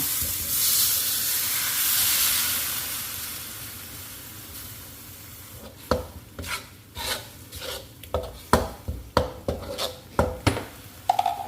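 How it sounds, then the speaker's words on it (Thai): Curry paste stir-fried in a hot pan for a catfish stir-fry, with water added: a steady loud sizzle fills the first half, then gives way to a series of sharp, rhythmic scraping and stirring strokes. "ผัดตัวพริกแกงให้หอมนะคะ พริกแกงเริ่มหอมนะคะ เราเติมน้ำลงไปค่ะ"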